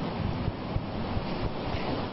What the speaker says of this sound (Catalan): S'ha desbordat el riu